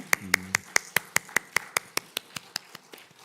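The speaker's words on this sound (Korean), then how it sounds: "박수 올려드리겠습니다." Church congregation at a Korean Sunday service claps in unison, about sixteen sharp, evenly spaced claps that gradually slow and fade, with a brief low murmur near the start.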